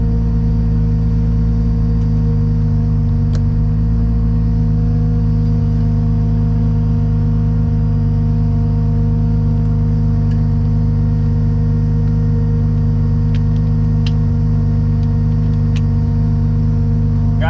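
A street car idles at a drag strip on a 100-degree day, its engine a steady, close rumble with constant low harmonics and no revving, heard alone without talk.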